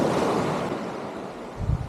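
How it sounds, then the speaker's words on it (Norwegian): A strong headwind at a river mouth on the Finnmark coast buffets the microphone with a dense, roaring rush, while surf churns underneath. A heavier gust thumps in near the end. "Og det er ganske god vind imot."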